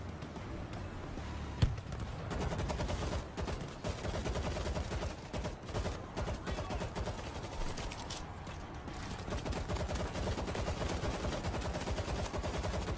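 A mounted turret firing in the zombie shooter World War Z, a dense, sustained stream of rapid automatic gunfire with a chaotic rumble behind it, continuous and fairly loud.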